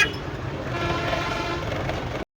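Train on the Lalgola–Sealdah line near a level crossing in Berhampore, a loud continuous rumble of passing rail cars with a brief high horn-like tone at the start, then cutting off abruptly.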